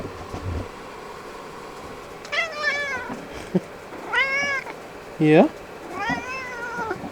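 A cat meows three or four times in drawn-out, rising and falling calls spaced a second or so apart, close by, with a person speaking briefly between them in a quiet room.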